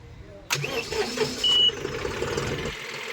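A John Deere 5405 4x4 CRD tractor engine cranks and catches about half a second in, then settles into a rough, steady idle, recorded close and loud.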